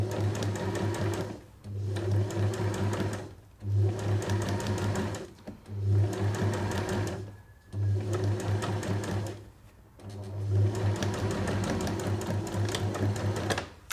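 A sewing machine stitches reusable makeup remover pads, running in steady bursts of rapid motor-driven stitching with several short pauses between runs, close and clear with no talking.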